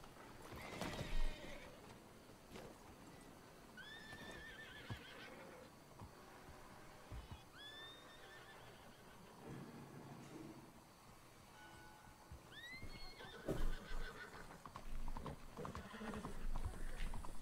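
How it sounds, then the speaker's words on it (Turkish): Hooves clip-clop at a steady walking pace in a Rockstar video game while a horse neighs and snorts several times, moderately close against faint ambient background noise. "Gerçekten atın ismini Roche diyerek en büyük hatayı yaptım yani."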